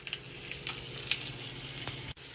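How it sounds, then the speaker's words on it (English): Steady, crackling sizzle of steak searing on a hot grill, with sharp pops and spits scattered through it and no talking. "I walked away from the sizzling so you can hear me clearly."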